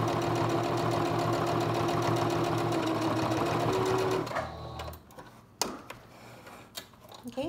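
A sewing machine runs a steady straight stitch through cotton fabric at a quarter-inch seam, a fast continuous mechanical whir close up, then stops and gives way to a few clicks and handling knocks.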